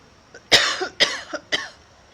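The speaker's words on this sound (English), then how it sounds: "I am kind of still coughing." Three harsh coughs about half a second apart, close and fairly loud, with a faint catch before the first; no talking.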